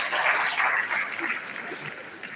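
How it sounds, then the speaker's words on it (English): Audience applause at an academic conference introduction, a dense steady patter of many hands clapping at moderate loudness throughout, slowly easing toward the end. "Round of applause,"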